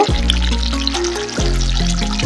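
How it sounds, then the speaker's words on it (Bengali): A small splash of water goes into a pointed gourd korma cooking in a pan, a short steady pour with a gurgling, rising tone. "এতে অল্প পরিমাণে জল অ্যাড করব"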